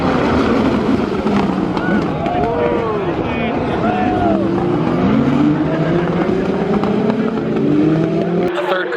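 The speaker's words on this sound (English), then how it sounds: "They get such a huge draft down this straightaway that they just keep slipstreaming and trying to outbrake each other every single time they come by." Indy Lights race cars scream down the straightaway at Circuit of the Americas, loud engine notes rising and falling in pitch as they pass in a tight slipstreaming pack, with a voice talking over the roar.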